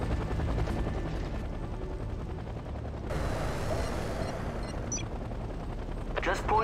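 A helicopter comes in to land in the strategy game Act of War: Direct Action, its rotor roar steady and loud throughout, with bursts of gunfire layered over it.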